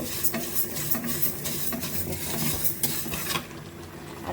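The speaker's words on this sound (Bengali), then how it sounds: "এদিকে মাসকালার ডাল ভেজে নিচ্ছি আমি" Black gram lentils being dry-fried in a pan, a close, continuous scraping stir of a utensil against the metal with a soft sizzle underneath, the rhythmic strokes repeating throughout before easing off near the end.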